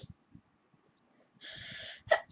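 A single sneeze bursts out after soft breathing and a quick inhale, close and fairly loud against a quiet room.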